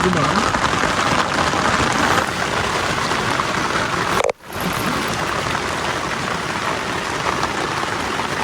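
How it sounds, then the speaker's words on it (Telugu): Heavy rain mixed with hail pours down in a steady, dense hiss close by, briefly cutting out once midway before resuming. "చూడండి ఒకసారి ఎట్లా పడుతుంది వర్షం"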